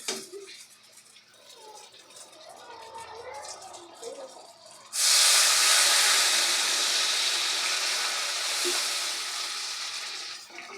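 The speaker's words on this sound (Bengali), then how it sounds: "আমার এখানে দেখুন গ্রেভিটা খুব ভালোভাবে ফুটতে শুরু করছে" Dum aloo gravy with potatoes and spices starting to boil in a pot, faint quiet stirring at first, then a loud, steady broadband bubbling hiss that continues to the end, no speech.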